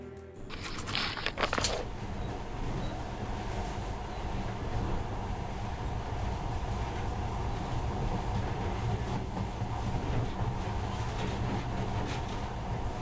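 A monorail train in Metro Last Light Redux runs steadily along its track, a sustained rumbling drone with faint rhythmic clatter and a brief clanking burst at the start, moderately quiet and even.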